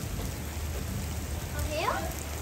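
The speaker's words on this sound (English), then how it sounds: "This little tiny bit of hail wouldn't really hurt too much, but it could." Tiny hail and rain falling outside, a steady dense hiss of rain spread evenly throughout, with a voice briefly rising over the patter.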